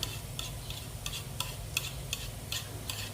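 Eggs being beaten in a bowl, a quick run of light, evenly spaced clicking taps of the utensil against the bowl over a soft background hiss.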